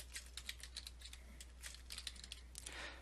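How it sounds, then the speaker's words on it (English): Quick, light key taps on a computer keyboard come in uneven bursts, close and quiet, with no voices over them. "To do a keyword search, type your topic into the search box."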